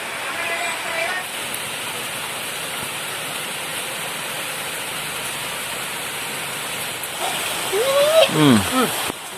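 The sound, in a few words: heavy rain falling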